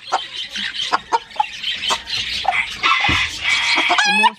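A broody hen clucks repeatedly close by, short clucks spaced irregularly among other chicken sounds from a farm flock, with a brief higher squawk near the end.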